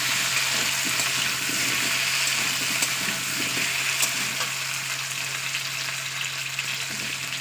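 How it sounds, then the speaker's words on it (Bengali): Taro pieces frying in hot oil in a pan for a Bengali fish curry, sizzling steadily throughout with faint scraping from occasional stirring. "দেখতেই পেয়েছেন আমি প্রায় 5 থেকে 7 মিনিট আমি এটাকে ভাজলাম তেলের উপরে।"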